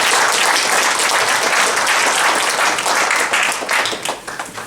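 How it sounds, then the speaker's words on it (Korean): A large audience at a civic forum on building a new southern regional airport applauds loudly and continuously, a dense wash of clapping that thins slightly toward the end. "다시 한번 큰 박수 부탁드리겠습니다"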